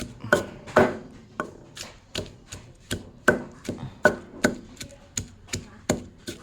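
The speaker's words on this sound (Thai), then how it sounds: "เครื่องก็ยายาคั่วไว้หมดแล้วตำเลยทุกคน" Steady, rhythmic thuds of a pestle pounding roasted ingredients in a mortar for Thai jaew chili dip, close and distinct, about two strikes per second with no talk over them.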